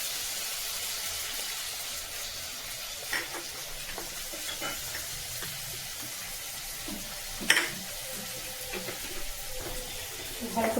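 Mustard seeds and chilli sizzle in hot oil in a home kitchen while a light curry of green banana, potato and yardlong beans is being made, giving a steady, moderately loud crackle with a few sharper pops and brief stirring clatter.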